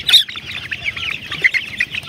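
Native chickens in a cold, windy coop cluck and squawk in short bursts over about two seconds, fairly close, with no talk.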